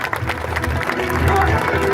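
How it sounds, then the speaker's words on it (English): A crowd at a sea lion show at Pleasure Island gives a short round of clapping, close and fairly loud, with a voice talking over part of it. "how about we give him a little clap for showing you guys that?"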